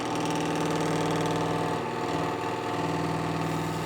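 A wood lathe spins a blank being turned with a spindle gouge for a small lidded box, giving a loud, steady motor drone with a faint rhythmic pulse and no voices.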